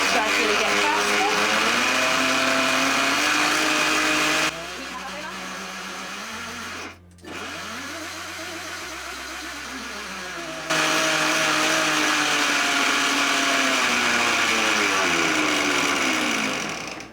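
A high-power countertop blender runs from its lowest speed setting, a loud motor whine whose pitch shifts in steps, dropping to a lower hum, cutting out briefly, then surging back to a loud roar.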